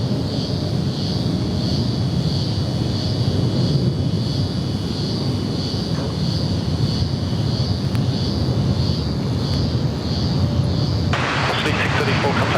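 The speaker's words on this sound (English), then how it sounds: "These are China Southern 325, the 777-300ER." Boeing 777-300ER jet of China Southern at Sydney Airport, a steady broadband engine roar sustained throughout, loud and continuous with a brighter rushing burst near the end, while people talk nearby.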